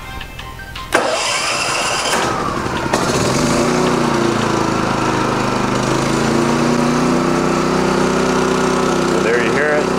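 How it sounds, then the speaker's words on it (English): A Champion dual fuel propane/gasoline generator cranks on electric start and catches, then runs at normal speed with a loud, steady engine drone; a voice speaks briefly near the start. "Right now the generator is running normal speed"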